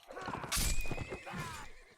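A horse neighs with a bright, wavering whinny over a rushing burst of hooves in a medieval combat video game, followed by a second shorter neigh, all close and loud.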